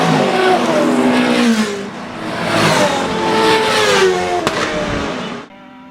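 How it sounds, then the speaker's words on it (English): Racing cars pass a fixed trackside point at Mondello Park, Ireland: a rumbling V8 Reynard, a shriller World Series car and a Formula 3 car, their loud engines rising and falling in overlapping close pass-bys before cutting off abruptly. "The rumble of Griffin's V8 Reynard, the slightly more shrill World Series, the high fidelity F3 of Faherty"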